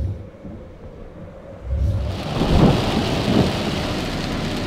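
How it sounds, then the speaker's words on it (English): Steady rain pouring on surfaces near Dallas, with a deep rumble of thunder rolling in partway through and swelling before settling back under the constant downpour. "And I'm quite bored of rain now."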